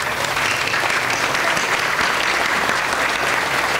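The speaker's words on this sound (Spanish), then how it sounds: "quiero pedirle que le brindemos un fuerte aplauso al señor gobernador" Steady, loud audience applause at a public event with a state governor present, dense even clapping throughout with no talk over it.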